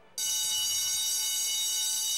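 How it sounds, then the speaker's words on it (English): A store security alarm, set off by a dress tag, starts abruptly and keeps up a loud, steady, high-pitched electronic tone. "That's a security alarm."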